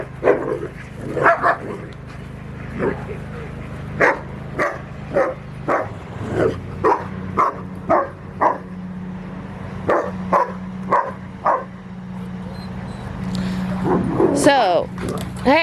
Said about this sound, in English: These dogs interrupting my video.